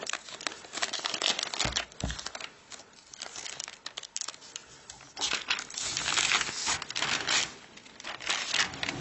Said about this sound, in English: let's go ahead and remove this envelope. So we have a little tab here. It should slide right out.